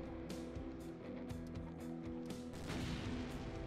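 In the shooter Doom, a thrown grenade brings a burst of loud, rapid blasts and booms, several sharp bangs over a dense, continuous din of game combat.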